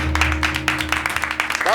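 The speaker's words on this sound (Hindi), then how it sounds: "बस इतनी तालियां मत बजाइए।" Audience applause from a comedy show's studio crowd, a steady wash of dense clapping at moderate loudness, with a voice speaking over it near the end.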